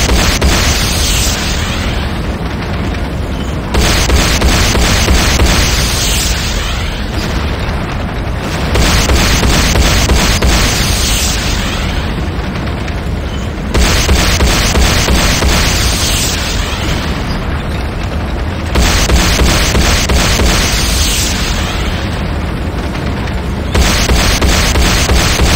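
Heavy explosions pound a Nod airstrip in C&C Renegade, a loud, continuous barrage of booms and blasts that rises and falls in waves across the whole stretch, with no talking.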